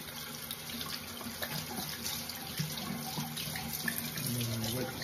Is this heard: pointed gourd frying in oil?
no